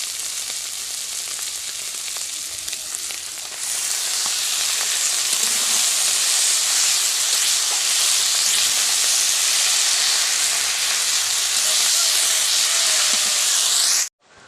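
Fresh spinach hits a hot pan and fries with a loud, steady sizzle and hiss that swells after a few seconds and continues unbroken, then cuts off abruptly near the end; no talking.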